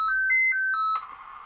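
A Commodore 64 SID chip plays a short sequence of quick repeated electronic beeps through tiny built-in monitor speakers, followed by a brief buzzy, noisy tone, all thin and close.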